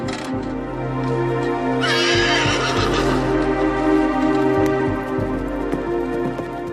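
Horses whinny loudly several times over a steady background of hooves and rumbling movement.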